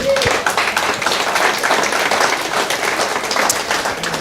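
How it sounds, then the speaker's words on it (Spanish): Church congregation applauding during a Christmas sermon, a dense steady wash of clapping that holds for the whole stretch without talk over it. "un aplauso al Señor"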